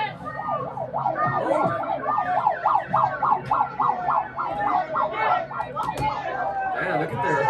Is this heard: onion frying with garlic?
no